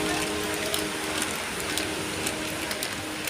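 Steady rain patters close by, a continuous wash of drops with occasional sharper drips standing out, no talking.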